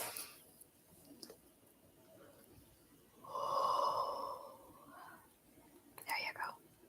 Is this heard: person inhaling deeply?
yes